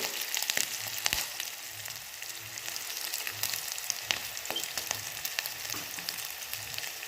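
Sprats are mixed and fried in oil in a frying pan for a tempered halmasso dish, with a continuous close sizzle broken by scattered clicks and scrapes of stirring.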